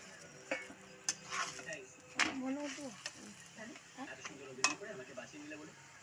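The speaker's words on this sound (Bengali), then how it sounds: "দেখো তালের পরোটা আমার ভাজা হচ্ছে" Palm paratha frying in a pan: a soft sizzle with clinks and scraping of a spatula against the pan. Someone talks over the cooking the whole time.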